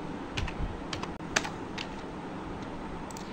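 Fast keystrokes on a computer keyboard, a short burst of separate clicks and one sharper tap, fairly close, over a steady hum of room noise with no talking.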